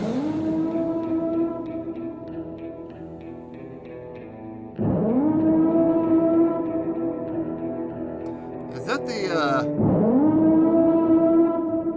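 A wailing alert siren like the Purge alert rises and holds in long repeated cycles within a song, with a brief noisy burst near the end.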